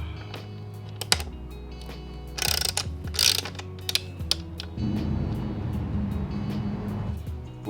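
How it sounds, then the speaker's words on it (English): Ratchet working a bolt loose on a Ducati Streetfighter V4 S during an SC-Project exhaust install: scattered sharp clicks, two short bursts of fast ratcheting, then a softer rasping spin, faint and close over a low background hum. "First start, removing this bolt."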